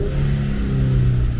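Infiniti Q50 engine revving loudly and steadily, a sustained mid-pitched drone that holds its revs without dropping, with a deep rumble underneath throughout.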